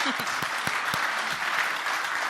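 Keynote audience at a Gutter Summit business conference breaks into steady applause, a dense wash of clapping with a few louder individual claps standing out near the front, sustained throughout with no speech.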